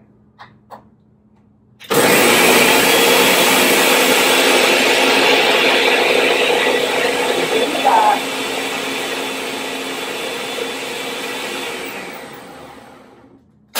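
An electric blender whirs loudly, blending herbs for a sunflower seed salad dressing. It starts abruptly after a brief pause, holds a steady high-pitched roar, then drops slightly in pitch and volume partway through before cutting off.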